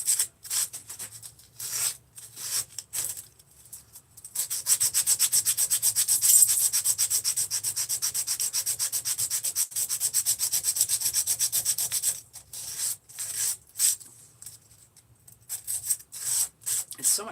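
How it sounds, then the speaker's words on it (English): Hand-sanding a carved wooden spoon bowl with 100 grit sandpaper: a close, steady rasping scrape, with short strokes at first and then several seconds of continuous rubbing before it breaks back into brief strokes. "Let's get the first piece of sandpaper going. What grit? There's 100 grit."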